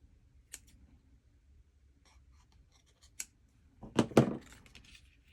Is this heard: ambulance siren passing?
no